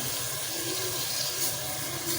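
Water saved from washing green beans pours steadily into a cooking pot with tomatoes and potatoes, a continuous splashing gush lasting a couple of seconds with no talk.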